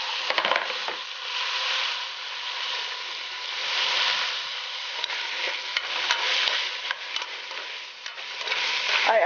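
About six cloves of garlic frying in a pot, giving a steady, close sizzle with occasional scrapes and stirring clatter, no voices over it.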